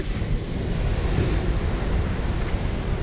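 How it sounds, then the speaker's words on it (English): Strong wind roars steadily across the microphone on the Lincolnshire coast at Chapel Point, England, with surf rumbling underneath, loud and continuous with no gusty breaks. "There's no gusts, it's just wind."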